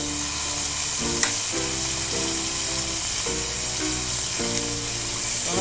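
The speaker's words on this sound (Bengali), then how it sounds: "এবার টমেটো দিয়ে দেবো।" Tomatoes go into a pan of fried onions and hiss with a steady, close sizzle, broken now and then by the scrape of a stirring spoon.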